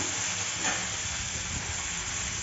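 Cauliflower curry sizzles steadily in a hot pan, a continuous close frying hiss with faint stirring noises and no talk over it.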